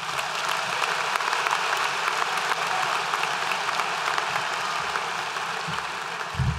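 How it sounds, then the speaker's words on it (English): Large school audience applauds recognized Fairmont Firebirds students, dense continuous clapping from many hands filling the hall for several seconds at moderate distance, with a few low thumps near the end. "Let's give them a round of applause."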